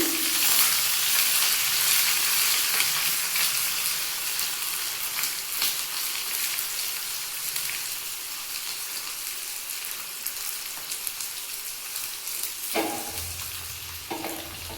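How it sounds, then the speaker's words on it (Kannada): Curry leaves and onion, with dried red chillies, fry in a pan for a village-style tempering, giving a steady close sizzle and crackle that softens slightly over time, with a few stirring scrapes near the end. "ಒಂದು ಸ್ವಲ್ಪ ಕರಿ ಲೀವ್ಸ್, 1 ಕಪ್ ಆನಿಯನ್ ಹಾಕಿ ಚೆನ್ನಾಗಿ ಫ್ರೈ ಮಾಡ್ಕೋಬೇಕು"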